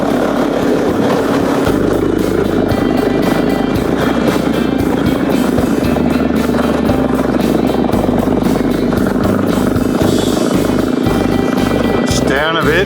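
A Suzuki DRZ dirt bike rides past on a forest trail near a fire tower, its engine a loud, rough, continuous drone with shifting revs, heard close, mixed with wind rush.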